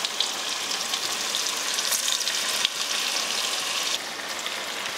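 Wild pheasant pieces fry in a pan with a steady, close, crackling hiss and spitting pops.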